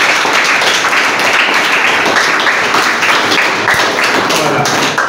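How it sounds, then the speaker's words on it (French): Loud, steady applause fills a church during a Saturday mass sung by a choir, the congregation clapping hard and continuously throughout with some voices mixed in. "on applaudit très fort pour vous tous"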